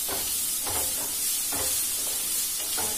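Spices for raw mango launji are stirred and roasted in a hot pan, with a steady soft sizzle and repeated scraping strokes of a spoon at a slow, regular pace, heard close up with no talking.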